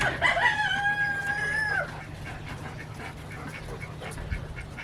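A rooster crows once, clear and fairly close, its call rising and holding before trailing off into a quiet outdoor background.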